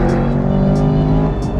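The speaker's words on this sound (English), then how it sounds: "when you put your foot down, the power goes through those rear wheels" An American sports car accelerates hard on a race track, its engine a loud, steady, close roar throughout.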